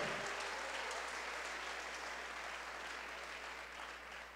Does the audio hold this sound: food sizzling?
no